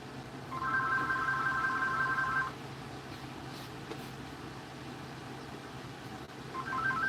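A phone rings in trilled electronic bursts during a car audio livestream, one sustained ring of about two seconds, then a pause with background hum before another ring begins at the end.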